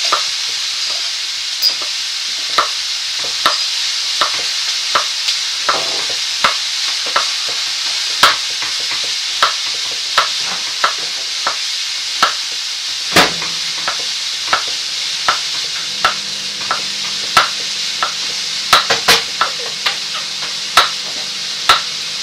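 Food being stirred in a sizzling pan after deglazing with lemon juice and crème fraîche, a steady hiss broken by regular sharp utensil taps against the pan, close and loud.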